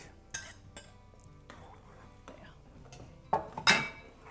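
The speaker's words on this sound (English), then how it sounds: "I'm going to put the tomatoes in now and stir that all around" Tomatoes and zucchini stirred into soup in a pot, with a spoon clinking and scraping against the pot in scattered knocks, the loudest near the end, plus faint background clatter.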